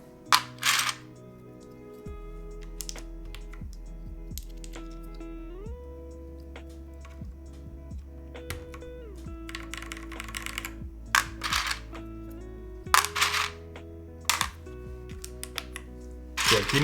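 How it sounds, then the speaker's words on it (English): Plastic keycaps for an AKB Vero V2 keyboard build clatter and click in scattered bursts while being sorted by hand, close and fairly loud, with sustained background music beneath. "give me a sec to sort through all these keycaps"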